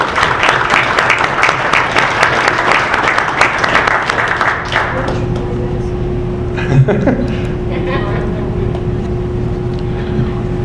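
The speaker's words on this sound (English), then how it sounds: "Let's give George and all his volunteers a round of applause" Audience applause at a State of the City address in Seven Hills, Ohio, for George and his volunteers: a broad wash of clapping that fades out around halfway, leaving a low hum and faint room noise with a brief thump.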